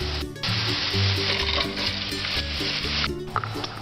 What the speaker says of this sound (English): I've been cooking the onions for about 10 minutes